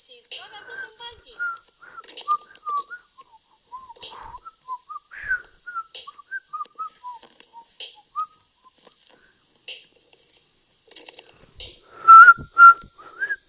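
Children playing the Baldi game whistle a wavering string of short, thin notes in a stop-start run, ending in a couple of louder, sharper whistles.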